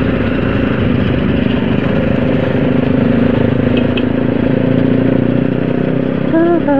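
A motorcycle engine runs steadily and loud throughout a fast ride on a group Sunday morning outing, with wind noise over the drone and a brief horn-like tone near the end.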